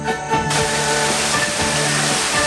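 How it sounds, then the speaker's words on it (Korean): A mountain valley stream in a deep forest flows with a constant broad rush of water. A steady musical tone runs faintly underneath, and the stream sound swells in after a brief quieter opening and stays even. "계곡은 물소리를 통해 자신의 모습을 알리고"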